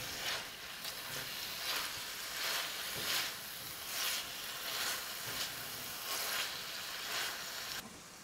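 Summer squash sizzles in a hot pan while being stirred, a soft steady frying hiss that swells in regular pulses about once a second, fairly quiet and without talk.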